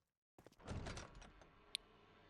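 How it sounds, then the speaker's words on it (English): A door creaks and thuds open in an Amnesia custom story, a short game sound after a moment of silence, followed by a brief sharp click. "That also opened the door."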